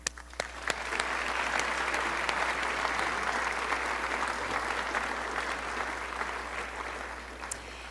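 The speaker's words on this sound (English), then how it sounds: "So could we please have a round of applause for our title sponsor, Innovative Medicines of Canada" Sustained round of applause from a large luncheon audience at an Economic Club of Canada event, steady and dense for several seconds, fairly distant in a big room, easing slightly toward the end with no talk over it.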